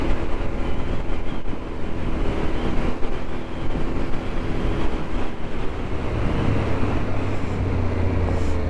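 A CFMoto CL-X 700 Adventure motorcycle rides off-road through a muddy, off-camber section, its engine rumbling continuously and loudly with throttle applied, the low drone swelling toward the end; no talking.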